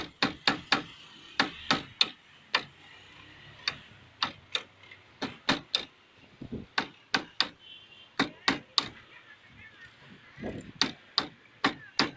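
A hammer striking nails while a chicken cage is built for raising laying hens at home: a long, fairly steady series of sharp, close, loud knocks, some in quick pairs, with no talking.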